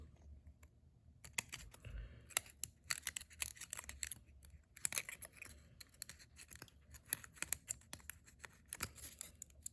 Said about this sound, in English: Cut another V out.